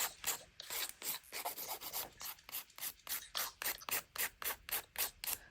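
Nail filing during buffing and shaping for an ombre nail set, brisk rhythmic rasping strokes repeating steadily and close, about three per second, with no talk over it.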